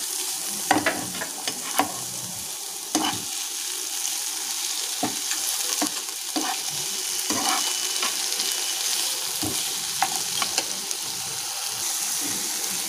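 Chopped green chilli and tomato frying in a pan, a steady loud sizzle with scattered stirring clinks and scrapes, no voices.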